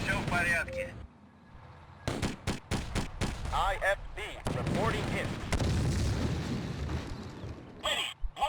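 Gunfire and artillery booms in the war video game Warfare, with repeated sharp shots and heavy blasts over rumbling battle noise, loud and dense throughout while a voice talks over the fighting.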